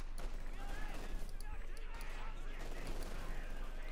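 Machine gun fire in the World War II strategy game Company of Heroes 2: rapid, continuous bursts of gunfire and battle noise running under a commentator's voice.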